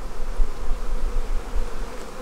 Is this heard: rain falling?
no